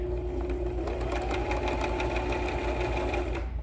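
A sewing machine stitches forward along a cloth face mask edge with elastic underneath, a steady close rattling hum with rapid regular needle pulses that cuts off at the very end, no talking over it.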